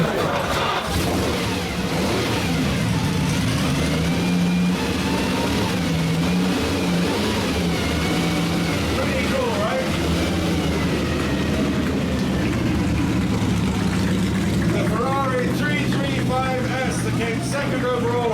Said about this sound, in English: Brian Ross, followed by the Ferrari 250 short wheelbase